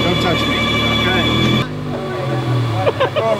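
A car's engine cranks on the starter and catches, then idles steadily with a cooling radiator fan running, close by with people talking over it.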